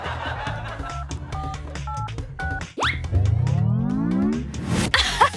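A mobile phone keypad beeps in a quick run of separate tones, followed by a cartoonish boing and a rising sliding plop effect, with brief noises in between.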